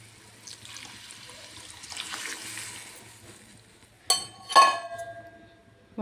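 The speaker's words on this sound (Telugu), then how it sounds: "వాటర్ పోసుకుందామండి." Water is poured into a hot pan of broad bean coconut curry, with a soft rush and some clinks, then a sharp sizzle and splash as the water hits the pan.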